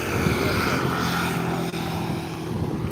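Embraer 190 jet approaching Skiathos at around 7,000 feet, heard as a steady, continuous engine roar and rumble that holds level throughout, distant and broad, with no talk over it.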